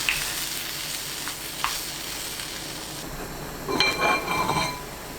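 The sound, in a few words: kelp broth with zucchini, onion and chili flakes boiling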